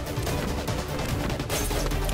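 Chris fires his shotgun in Marvel vs Capcom Infinite, loud blasts and impact crashes packed together in rapid bursts amid dense fight-game effects.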